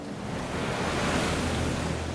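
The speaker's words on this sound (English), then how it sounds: "I just remember those waves, the sound of those waves." Storm-driven ocean waves roar in a continuous broad rush mixed with wind, loud and unbroken with no distinct breaks, and no voices.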